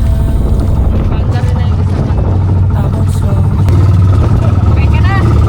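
A flying drone in windy conditions, its whirring motor buzz rising and wavering under heavy wind noise on the microphone, loud and close.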